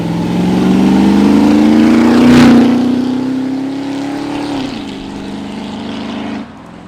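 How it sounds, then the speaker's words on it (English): A 1986 Ford F150 pickup truck passes by on a closed road, its loud engine note climbing in pitch as it approaches close by, peaking, then easing off and fading as it moves away. "that truck sounds good"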